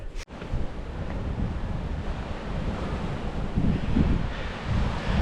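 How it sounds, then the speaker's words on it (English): Strong wind on the summit of Mt Karioi near Raglan roars and buffets the microphone in a continuous rush, with a sharp knock at the very start. "It's pretty windy."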